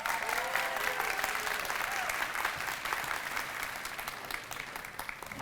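An audience at a registered nursing program celebration applauds in a steady, dense wash of clapping that carries on without a break through the whole stretch.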